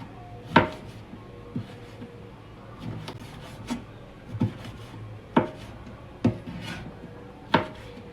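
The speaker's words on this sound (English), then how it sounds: "So now I'm gonna cut these into medium diced chunks" A knife chops onion and seasoning vegetables into medium diced chunks for Jamaican run dung, about nine sharp, irregular board knocks separated by pauses, close and distinct with no talking.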